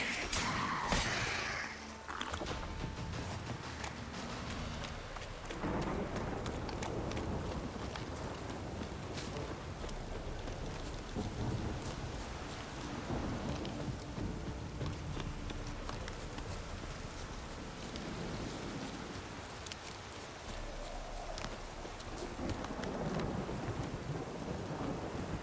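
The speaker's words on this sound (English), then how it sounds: "downpour's a bastard, it is." Steady, heavy rain hisses throughout with low rumbles of thunder rolling underneath, a dense, continuous storm wash with no clear pauses, in The Witcher 3: The Wild Hunt.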